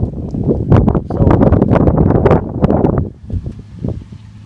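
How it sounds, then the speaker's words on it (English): Strong gusts buffet a microphone outdoors on a farm during hay cutting, producing loud, continuous low rumbling and rustling blasts that ease off and turn fainter near the end. "damn wind."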